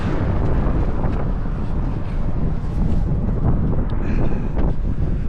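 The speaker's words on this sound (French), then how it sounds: "il y a un vent de fou. Je sais pas si vous l'entendez en caméra." Strong wind in the Saudi desert buffets the microphone in a constant loud roar, gusting without pause.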